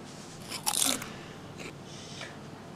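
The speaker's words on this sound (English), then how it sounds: "now it's time to take my bite" A single bite into a homemade M&M brownie, one short crisp crunch followed by faint chewing, close and quiet with no talking.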